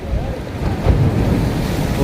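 Sea waves wash onto the shore at Dhanushkodi beach near the Sri Lanka border, a continuous loud rush of surf with heavy wind buffeting the microphone.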